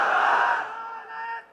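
Religious gathering crowd shouts a takbir in unison, one loud collective cry that fades and trails off with a second weaker response.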